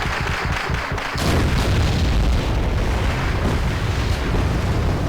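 Mortar fire and explosions in a war video game battle over infantry and T-72 tanks: a loud, dense, continuous rumble of booms that swells after the first second and rolls on without pause.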